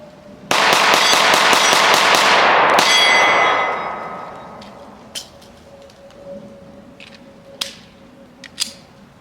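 A rapid string of loud, close pistol shots from a Glock 43x or Shadow Systems CR920 rattles off in quick succession, followed by a few scattered clicks and sharp handling noises.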